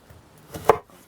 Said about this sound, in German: Also ich schneide hier über Semmelbrot, Semmelknödel, Knödelbrot. Einfach so Scheiben schneiden, 1 cm dick.